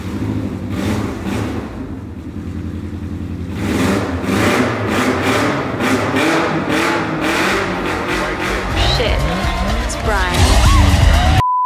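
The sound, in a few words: custom Fiat Multipla engine revving through modified exhaust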